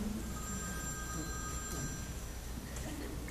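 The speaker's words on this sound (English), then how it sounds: "I think that's my phone." A telephone rings indoors during a Christmas skit, thin repeated electronic tones sounding faintly over a low room background.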